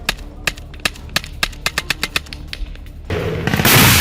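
Rapid gunfire aimed at an Israeli army convoy in Gaza, a burst of sharp irregular cracks in quick succession, followed by a loud rushing roar of noise at the end, no speech.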